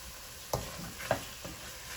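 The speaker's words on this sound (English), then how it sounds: "So we keep stirring, keep stirring" A Jamaican beef stew is stirred in a pot, giving soft spoon scrapes and a few light knocks against the pot over a quiet background.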